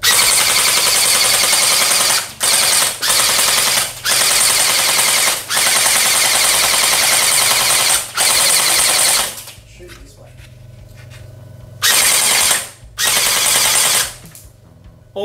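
A toy XF-21 Gel Strike gel blaster fires in long rapid-fire bursts, a loud buzzing mechanical whir broken by short pauses, with quieter intervals late on; played indoors with the lights off.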